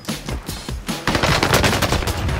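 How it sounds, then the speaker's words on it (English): Rapid automatic gunfire in a shooting video game, with two players firing at once: dense, loud bursts of overlapping shots that run almost continuously, close and alone with no talk. "Two freaking people are shooting at me."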